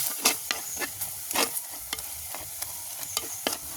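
Tomatoes being stirred and mashed in a cooking pot over an outdoor village fire, with repeated scraping strokes and soft wet squishing at an irregular rhythm, close and moderately loud, with no voices.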